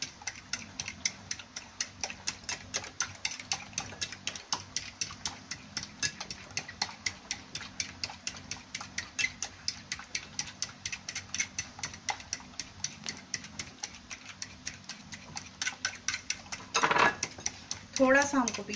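Egg, milk and sugar mixture for French toast being beaten in a bowl, rapid rhythmic clicking of the whisk against the sides, steady and close for a long stretch, with a brief louder clatter near the end.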